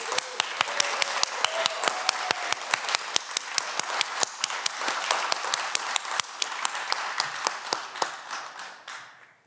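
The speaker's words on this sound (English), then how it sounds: "Give yourselves one more big round of applause" Graduates at a 2021 art school commencement applaud in a long, steady round of many hands, with sharp distinct claps standing out nearby, before the clapping fades away at the end.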